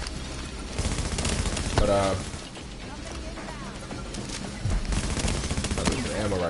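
Rapid bursts of assault rifle fire crackle in a video game, dense repeated shots in clusters with short pauses, while a player talks over the action.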